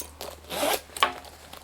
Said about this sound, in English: let's just undo it so I can show you completely. So it has a zip across the top.